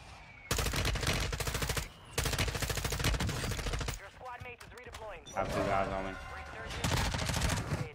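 Loud machine gun bursts from Call of Duty Warzone, several long rapid volleys with short gaps between them, close and dominant, with brief voices in the quieter middle stretch.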